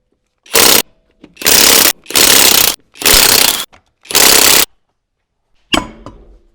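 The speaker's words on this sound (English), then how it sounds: "The first thing we'll do is remove the wheel with a 17mm socket." An impact wrench with a 17mm socket zips off the front wheel lug nuts of a RAM Promaster City, five loud, close, even bursts of rattling whir with short gaps, then a clatter.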